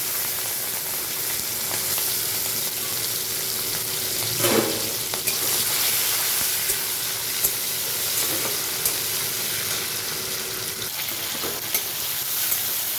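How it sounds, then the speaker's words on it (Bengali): Shrimp frying in hot mustard oil in a wok with bay leaf and cumin, a continuous bright sizzle and hiss with a brief stir or scrape partway through, no voices. "চিংড়ি মাছটা একটু ভাজা হয়ে গেছে"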